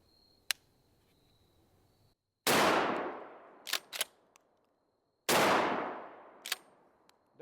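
An Escort Bulltac 12 gauge shotgun fires two heavy, close blasts about three seconds apart, each decaying slowly, with small clicks and mechanical handling noises in between and no talking.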